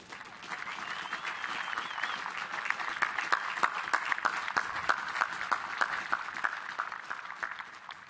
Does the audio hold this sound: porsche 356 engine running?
no